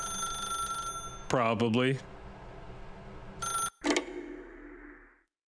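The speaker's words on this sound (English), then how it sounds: "I guess we're picking up the phone" In The Stanley Parable, a telephone rings in repeated warbling trills, loud and clear, followed by a few sharp clicks and a fading electronic tail. A voice speaks briefly over the ringing.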